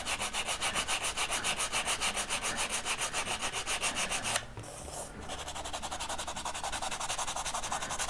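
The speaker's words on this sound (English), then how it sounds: "take some regular sandpaper and just kind of work it over the top, kind of rounding the sides" Sandpaper rubs back and forth by hand over the wooden parts of an Estes model rocket in steady, even strokes, pausing briefly before the scratchy rasping resumes.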